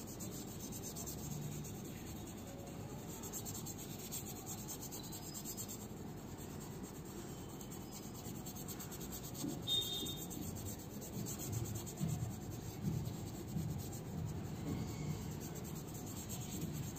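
A flat brush blends pencil shading on a drawn face, giving a very faint, continuous soft rubbing and brushing against paper with no talking.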